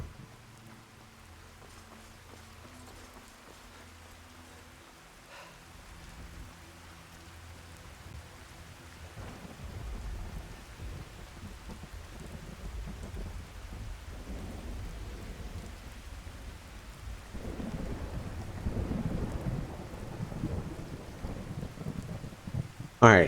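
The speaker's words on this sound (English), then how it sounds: "That's a lot of rain." Heavy rain and a thunderstorm in the video game Skyrim, a steady hiss of rainfall with low rumbling thunder that swells louder over time, with no talking.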